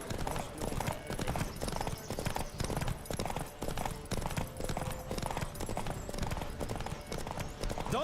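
Galloping horse hooves pound in a steady, rapid rhythm throughout a horse race in The Witcher 3 video game, close and loud with a faint whinny now and then.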